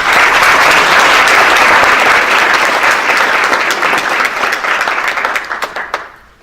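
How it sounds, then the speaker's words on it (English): Audience applause at an annual State of the County community event hosted by the Chamber, a loud, dense burst of clapping that holds steady and then thins out and fades near the end. "So please join me in giving the city one more round of applause."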